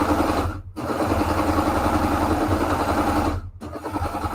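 Serger sewing machine stitching over a piece of plastic, a fast buzzing mechanical whir running continuously and close, with two brief pauses where the motor stops.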